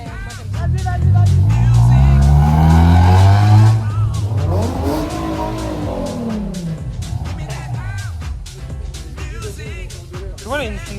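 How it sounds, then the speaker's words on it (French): Japanese cars rev their engines hard at a car meet, a loud sustained roar that rises and falls in pitch, followed by sharp throttle blips and crackles, with people talking nearby. "ils sont en train d'exciter les voitures depuis tout à l'heure"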